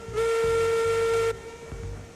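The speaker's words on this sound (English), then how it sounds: "All right, let's blow that whistle" A steam locomotive whistle in Railroads Online sounds one loud, steady, high blast of about a second over the chuffing and hiss of the engine, then cuts off as the rhythmic chuff continues.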